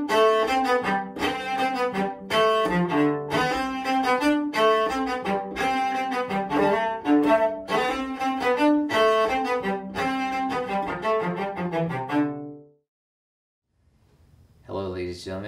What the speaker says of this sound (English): It's a cello solo that was in that movie.